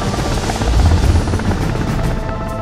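A Mi-17 V5 Indian Air Force helicopter roars loudly and close, its rotor and engine noise a dense, steady thrum that fills the whole moment.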